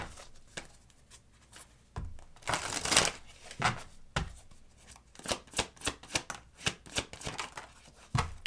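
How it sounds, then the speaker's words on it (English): Tarot cards drawn and shuffled from a deck, producing a run of quick papery flicks and riffles, close and fairly crisp, with no talking. "Let's get a couple of these cards here."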